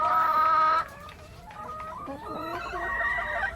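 Hens cluck on a farm at feeding time, with a rooster crowing loudly at the start, followed by a busy mix of clucks and calls at moderate distance.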